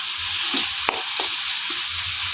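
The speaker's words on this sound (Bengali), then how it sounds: "পুরটা রেডি হয়ে গেছে, দেখতেই পাচ্ছ একদম ভাজা ভাজা হয়ে গেছে।" Coconut samosa filling fries and is stirred in a pan, a loud, steady sizzling hiss broken by a sharp scrape and a few softer stirring strokes.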